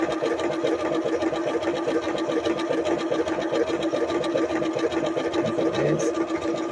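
An Elna Experience 570A sewing machine stitches a buttonhole on fabric, running as a continuous, fairly loud mechanical whir with a rapid, even needle rhythm that lasts the whole seven seconds.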